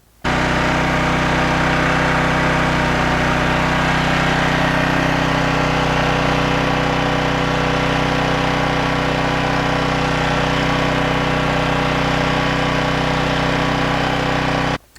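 A Briggs & Stratton portable generator engine runs loud and steady at close range, a constant buzzing drone with no talk over it.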